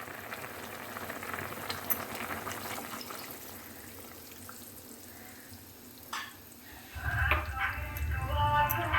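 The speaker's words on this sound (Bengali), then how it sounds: "এবার আমি দুধটা দিয়ে দেব।" Milk poured into a pot of nearly cooked vegetables simmering for Bengali shukto: quiet bubbling first, then a louder liquid rush and sizzle as the milk hits the pan near the end.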